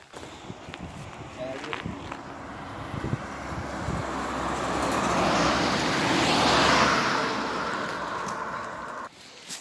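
A car passes on a road with poor visibility beside an abandoned estate, its rising whoosh swelling to a peak near the middle before cutting off, over steady outdoor background noise.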